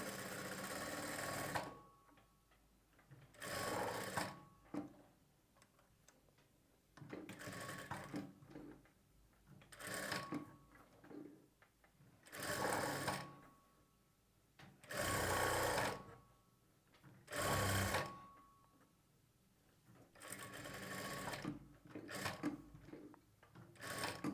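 A sewing machine attaches piping to the neck lining of a blouse, heard up close in a series of loud stitching bursts separated by short pauses.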